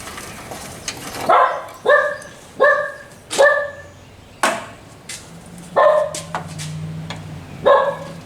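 A dog barks repeatedly outdoors, sharp individual barks spaced about a second apart, fairly close, with some softer yips between.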